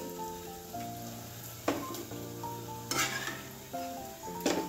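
Mutton goes into spiced masala in hot oil and sizzles steadily, with a spoon stirring and scraping the pot in several bursts, close and fairly quiet.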